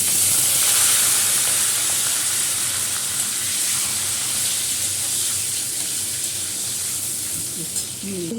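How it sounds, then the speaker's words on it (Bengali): Black cumin seeds, green chillies and potatoes fry in hot oil, giving a loud, steady sizzle and hiss that fades slightly toward the end, with a faint clatter near the close. "এই যে কালো জিরা ফোড়ন দিচ্ছি, কাঁচা লঙ্কাগুলো দিয়ে দিলাম, আলুটাও দিয়ে দিলাম"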